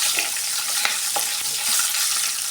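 Three chopped green chillies, ripe ones, sizzle steadily in a hot pan with a soft hiss and occasional light stirring scrapes, close and continuous with no voices.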